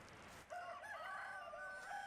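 A chicken in the medieval life-sim game Medieval Dynasty crows and clucks, a clear rising and wavering call after a brief quiet start, heard alone at low volume.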